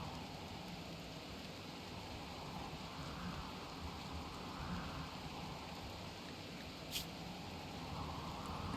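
A rainstorm in the video game Rimworld: a steady, moderately quiet wash of rain noise runs throughout, with a faint distant rumble and one short bright tick, and no one speaks.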